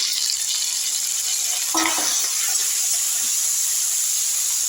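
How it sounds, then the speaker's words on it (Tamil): Onions and tomato sautéing lightly in a pan for wedding-style sambar rice, a steady close sizzle with a brief stirring clatter near the middle, no voices. "இதிலே தக்காளி போட்டுக்கலாம்"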